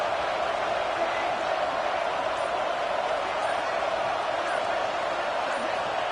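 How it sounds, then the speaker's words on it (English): A stadium crowd at a college football playoff game in the Madden 26 video game, a dense, steady roar of cheering that holds evenly throughout. "It's early, but this crowd is fired up. Listen to this noise here."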